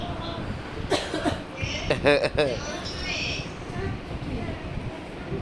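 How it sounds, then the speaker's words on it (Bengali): A person coughs in a short harsh burst of several coughs close by, with other sounds and voices around it in a domestic setting. "কাশি সাংঘাতিক কাশি।"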